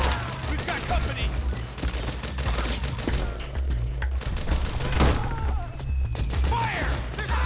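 Heavy gunfire in Metal Gear Solid 4 on PS3 builds into a dense, continuous barrage of loud shots and booms, mixed with chaotic battlefield clatter.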